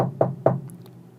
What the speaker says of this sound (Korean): 노크 소리가 들렸습니다